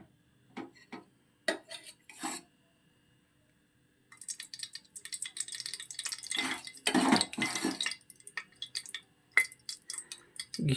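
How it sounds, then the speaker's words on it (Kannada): Metal utensils clink and scrape against a pan and spoon while ghee is added during paneer ghee rice preparation, with scattered sharp taps early on, then a busier stretch of clattering and stirring close by. "ಸೊ ಇವಾಗ ಘೀ ಆ್ಯಡ್ ಮಾಡ್ತೀನಿ"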